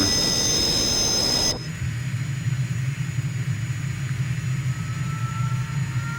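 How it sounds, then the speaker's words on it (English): A jet engine of a Morane-Saulnier MS760 Paris Marboré II in a flight simulator game roars steadily; a high whine drops away after a second and a half, leaving a constant loud low rumble. "So let's get that second engine up and running."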